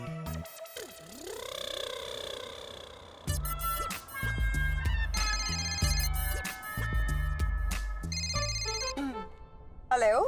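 A phone ringtone plays a bright electronic melody, repeating in phrases with pauses between them, clear and prominent, with no one speaking.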